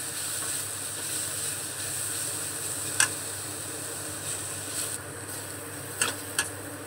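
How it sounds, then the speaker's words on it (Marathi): Finely grated vegetables sauté in a pan for veg momos with a continuous, even sizzle at moderate loudness, broken by a few faint clicks and taps of a spatula stirring. No one talks. "कमीत कमी 3 ते 4 मिनिटं हे व्यवस्थित परतून घ्यायचं."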